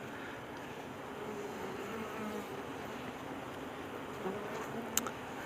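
Honey bees buzzing around a thriving hive whose combs are filling with capped honey, a faint, continuous droning hum with no talk and a brief soft click near the end.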